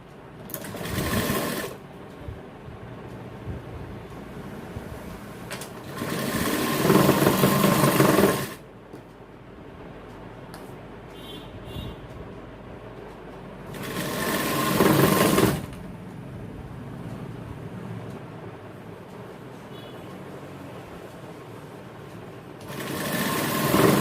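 An industrial sewing machine stitches the folded placket of a 34-inch men's jacket in a tailoring shop, running in several loud bursts of rapid whirring separated by quieter pauses.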